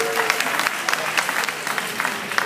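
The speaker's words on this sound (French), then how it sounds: "je vous demande donc d'applaudir Daouda Diané," A crowd applauds the winner of a general-knowledge quiz contest with steady, dense clapping that fills the whole stretch, fairly loud and close, with a few sharper individual claps standing out.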